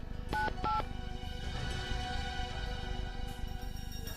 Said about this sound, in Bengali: দয়াকে ফোন করে বলে দিই যে আমি কোথায় আছি।